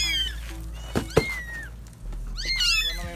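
Kittens and their mother cat meow in several short, rising and falling cries, close by and fairly clear over a low background hum.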